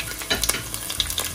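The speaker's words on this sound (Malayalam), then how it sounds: "നമുക്ക് ഇതിലേക്ക് കടുക് ഇട്ട് കൊടുക്കാം പച്ചമുളക് ഇട്ട് കൊടുക്കാവേ" Mustard seeds and green chillies frying in hot oil, a close, dense sizzle with quick crackling pops and light stirring, no voices.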